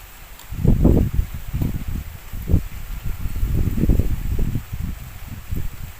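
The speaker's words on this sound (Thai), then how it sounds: "ลมแห้งครับ" Dry wind gusting through leaves outdoors, a repeated rustling and buffeting in uneven bursts, loud and close at times, with low rumbling surges rising and falling throughout.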